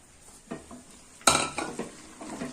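A spoon stirring chicken kurma with pidukam paruppu in a pan gives a few soft scrapes and clinks, then a sharper metallic knock followed by light rattling, with a faint sizzle underneath.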